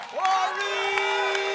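A studio audience at a comedy talk show cheers with a rising whoop and sustained vocal shouts, with a few scattered claps behind it, over about a second and a half.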